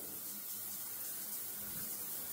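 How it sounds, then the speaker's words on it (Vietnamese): Hot water gushing steadily from a household tap fed by a booster pump, a continuous broadband splashing hiss with no pauses, close and fairly even throughout. "Đợi một tí cho nước nóng chảy ra đây"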